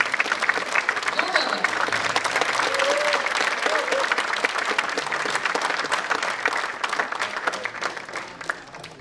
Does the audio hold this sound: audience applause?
yes